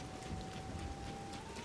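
Steady rainfall in the video game The Legend of Zelda: Tears of the Kingdom, a soft continuous patter at low volume with no voices over it.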